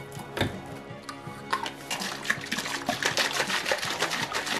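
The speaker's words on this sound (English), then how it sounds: "I mixed together water with PVA glue and alcohol" Water mixed with PVA glue and alcohol for a diorama's plaster effect, heard as steady close trickling and dripping with small splashes that build in density throughout.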